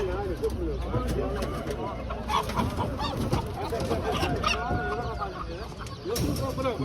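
Chickens and roosters cluck and crow continuously at a busy Turkish poultry market, with pigeons cooing among them, a dense close chorus beneath steady crowd talk.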